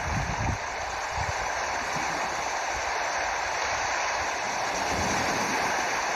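A flowing stream outdoors gives a steady, broad rushing of water, constant and fairly loud throughout, with a few low thumps early on and no talk.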